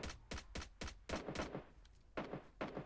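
Gunfire in PUBG Mobile Lite: a run of sharp, evenly spaced single shots, a short pause, then a few more, close and crisp with no talk.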